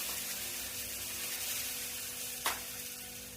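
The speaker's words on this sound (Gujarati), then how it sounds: "મરચા વઘાર થાય છે" Spices, mustard seed, cumin, turmeric, curry leaves and chillies, tempering in hot oil for Gujarati dal dhokli, a soft steady sizzle with a brief sharp crackle near the end, no voices.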